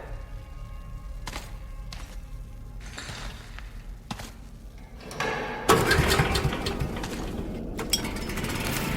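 A generator in the video game Metro Last Light Redux coughs and clanks through several tries, then catches and settles into a steady, fairly loud running drone.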